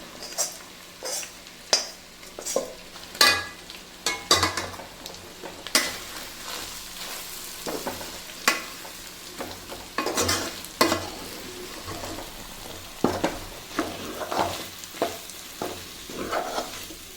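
Masala stirred into cooked beef for beef pickle in a pan, close repeated spoon scrapes and clinks against the metal over a steady sizzle of frying.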